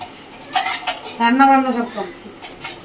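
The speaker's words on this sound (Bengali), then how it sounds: "ও এখানে কিছু বাসন আছে সেগুলো মাজছে" Pots, pans and cutlery clatter and scrape as dishes are scrubbed in a home kitchen, a run of close, uneven knocks and rubbing with a brief rising voice-like tone in the middle.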